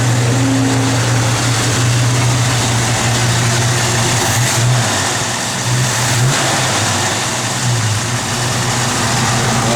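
A 1969 Chevrolet C10 pickup with a mild cam idles with a steady, lopey rumble, with slight swells as the throttle is blipped. It runs loud and close throughout, with no talking.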